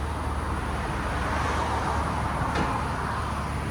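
A stock-exhaust 2023-2026 Nissan Z with a 3.0L twin-turbo V6 sits at idle, giving a soft, even, continuous engine hum at moderate distance, with no talking.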